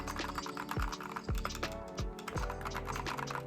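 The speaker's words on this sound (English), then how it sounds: "The keyboard is mechanical with red switches," Typing on a Glorious mechanical keyboard with red switches: a steady run of close keystrokes with a few heavier, deeper thumps, likely the space bar, spaced regularly, and no talking.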